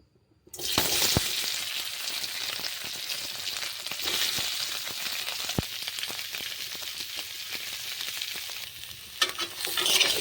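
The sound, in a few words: potatoes frying in oil for aloo dum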